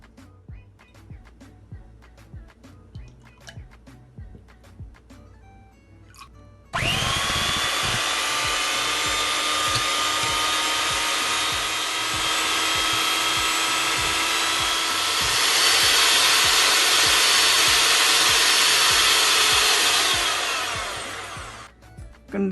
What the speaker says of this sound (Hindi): तो चलें पहले क्रीम बीट करते हैं एक बीटर से